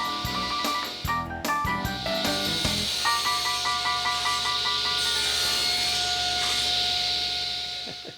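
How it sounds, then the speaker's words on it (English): Table saw slicing through a wooden workpiece held against a stop block and auxiliary fence, a close, steady whine with a rasping cut that runs for several seconds before easing off. "Here, I set the workpiece on the table saw, slide it down until it contacts the stop block, hold it securely against the auxiliary fence,"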